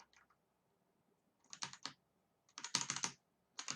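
Bursts of typing on a computer keyboard, quick clusters of close, crisp key clicks separated by short pauses, quiet and with no talking.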